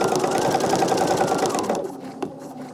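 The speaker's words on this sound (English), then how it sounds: "I'm just going to do the same stitching on the background" A sewing machine runs steadily, stitching quilting rows across the background of a quilt, a fast even hum that stops abruptly about two-thirds through, leaving quiet.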